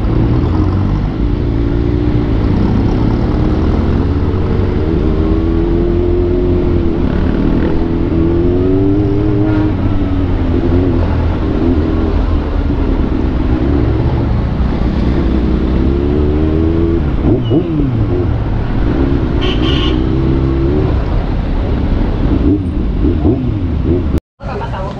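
Steady road traffic rumble around a large motorcycle in heavy traffic, close engine drone with rising and falling revs and passing vehicles throughout, continuous and loud, with people talking over it.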